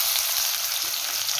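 A spice tempering crackles and sizzles in hot oil in a pan, a bright continuous sizzle heard up close without talk.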